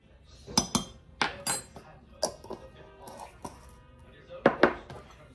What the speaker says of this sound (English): And I'm just going to give this a stir.